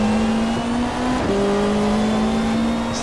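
BMW M3 touring car engine in GTR2 at Mallala, racing in the 1995 Australian Super Touring Championship: a steady loud high-revving drone with an upshift partway through, alone with no talk.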